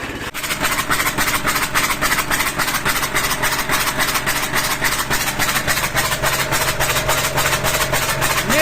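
A T-40 tractor engine idles at about 700 rpm, a steady, loud, fast rhythmic clatter that runs close and unbroken throughout, with no voices.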